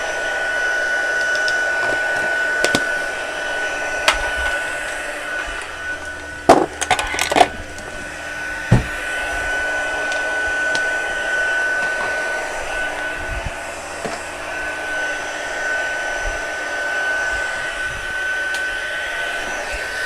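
A heat embossing tool blows hot air over cardstock in a continuous whooshing, hair-dryer-like drone, close and steady, broken by a few sharp clicks and taps partway through.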